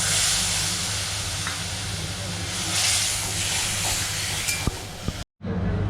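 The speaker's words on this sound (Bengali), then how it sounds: "এবার মশলাটাতে একটু কষিয়ে একটু জল দিয়ে দেওয়া হলো।" Water hits a frying egg curry masala of turmeric, salt and green chilli, producing a continuous close, loud hiss and sizzle that cuts out briefly near the end.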